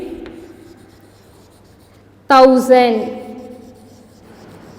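Numbers written by hand with a pen on paper during a Class 3 maths lesson on place values: a faint, steady scratching, briefly interrupted by a short spoken number.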